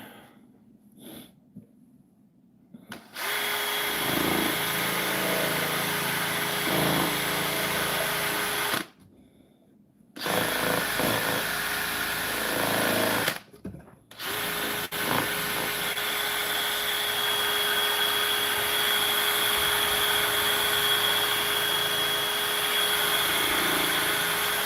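A drill running during sketchy lathe turning, a loud steady whine with a constant tone that cuts out abruptly twice and then resumes, continuing to the end.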